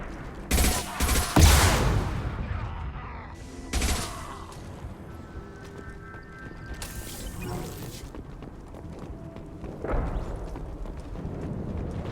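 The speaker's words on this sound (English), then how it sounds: "Firing a high-impact shot!" A few sharp, heavy gunshot blasts in Mass Effect 2, a pair of loud cracks early on and another near the middle, followed by mechanical clanks and quieter game ambience.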